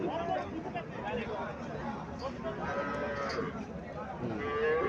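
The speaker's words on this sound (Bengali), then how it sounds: "এখানে আরেকটা দেশি গাভি দেখা যাচ্ছে।" A local cow at a rural cattle market, with steady crowd chatter and livestock noise throughout and lowing mixed into the busy, continuous babble.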